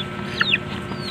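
Backyard breeder chickens, native stock and Rhode Island Reds, give a few short, close clucks and squawks over a steady outdoor background, with the loudest burst near the middle.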